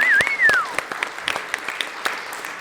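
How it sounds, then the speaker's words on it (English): Live event audience applause, a quieter scatter of claps following a brief whistle or voice at the start, thinning out across the short stretch. "How about a big round of applause for Mr. Tim Wetro?"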